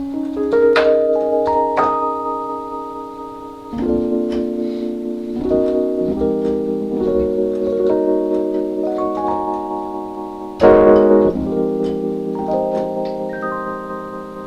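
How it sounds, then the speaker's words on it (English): Keyboard chords with an auto-pan effect play a slow, bright sequence of sustained notes, each ringing out and decaying, with the tone sweeping back and forth between left and right. "The first is the auto pan that gives it that, it bounces from left to right"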